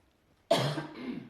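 A single sharp cough bursts out suddenly after silence, followed by a short rough trailing exhale.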